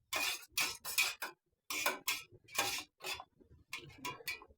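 A spoon scrapes and clinks against a pot while button mushroom tissue-culture media is stirred over heat, in a run of short, irregular bursts separated by brief pauses, close and fairly clear.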